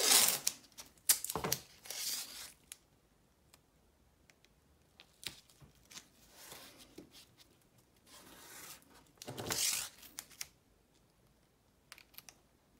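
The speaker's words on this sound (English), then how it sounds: "So let's apply masking tape before anything else." Masking tape being pulled and pressed around a diorama base, with intermittent sharp tearing rips and soft crinkling taps close by, separated by quiet pauses.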